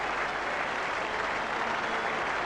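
A cricket crowd at Perth in 1987 applauds a batsman's century against Pakistan, sustained loud clapping spread across the ground without a break.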